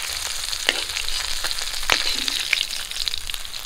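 Fish fries in hot oil in a pan, a continuous close crackling sizzle with sharp spatters and a few clinks of a utensil, no voices.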